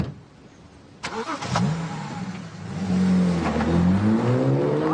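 A car engine cranks and catches with a sharp start, then settles into a rising rev and steady running hum, loud and close, with no talking.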